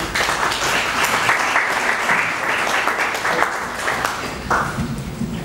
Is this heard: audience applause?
yes